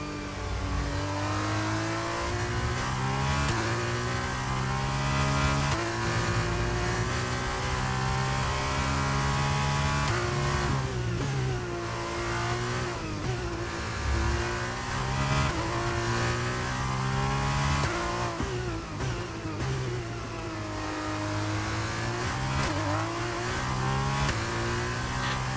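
An F2 car with DRS open laps Imola in F1 23, the engine screaming loud and constant as it revs up and drops through repeated gear changes over a long stretch.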